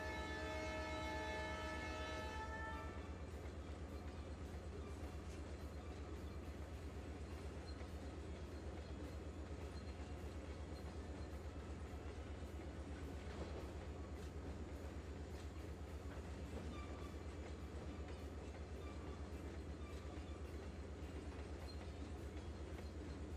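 A model train runs on a layout, a continuous low rumble and clatter with a brief horn at the start, steady and fairly close throughout with no talking.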